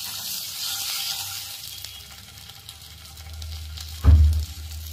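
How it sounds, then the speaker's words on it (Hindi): Idli hits a hot pan with a sharp, loud burst of sizzling that holds steady for about a second before the clip ends, with only quiet kitchen background before it. "पैन गरम हो चुका है, हम इसमें इडली डाल देंगे।"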